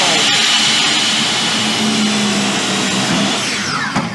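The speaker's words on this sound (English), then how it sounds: "Start the saw." A power saw cuts through a board, a loud, dense, close whine that holds steady throughout, with a brief knock near the end as the cut finishes.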